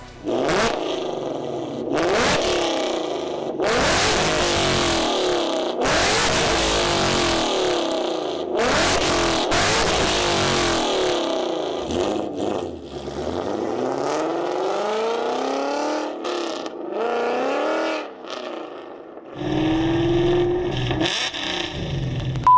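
A 2015 Mustang GT V8 with a Corsa Xtreme catback exhaust, X-pipe and long tube headers revs hard again and again, roaring up and dropping back, then settles to a rumbling idle.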